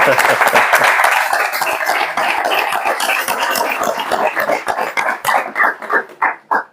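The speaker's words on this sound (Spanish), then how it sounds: "Un aplauso si queréis, porque es un momento emotivo." A book presentation audience in a bookshop breaks into dense, loud applause that holds steady, then thins into a few separate claps as it dies away.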